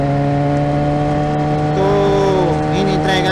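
A motorcycle being ridden, its engine droning with steady harmonic tones that shift in pitch as it revs and changes speed, loud and close with wind noise.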